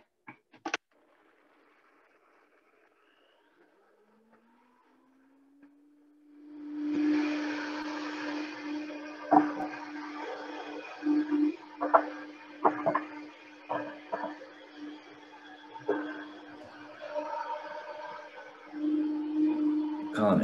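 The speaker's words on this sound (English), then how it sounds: "I can't tell if you can hear over the blender or not" A countertop blender whirs loudly as it blends a sauce containing unpeeled ginger, its motor steady with rattling surges, after a quieter hum at the start.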